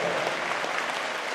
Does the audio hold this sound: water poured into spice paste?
no